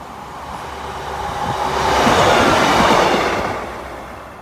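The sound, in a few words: East Midlands train passing Oak Farm level crossing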